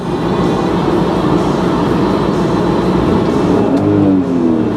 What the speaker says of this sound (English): The engine, it sounds pretty good